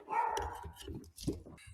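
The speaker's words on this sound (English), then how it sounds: "the dog starts barking again." A dog barks in short, close bursts, a few sharp yaps and woofs in an irregular run indoors.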